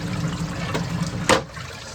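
Water runs smoothly over the evaporator of a Scotsman ice machine after its water assemblies were cleaned, a steady close trickle and wash with a short splashy surge near the end.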